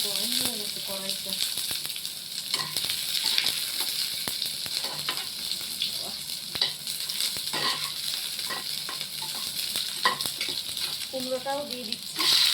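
Chopped onion and garlic fry in hot oil in a kadai, a steady bright sizzle with occasional stirring scrapes and clinks running throughout.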